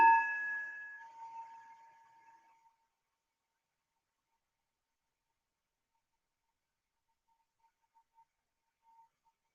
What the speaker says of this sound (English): Allow every bell to take you deep into the silence from where you can listen.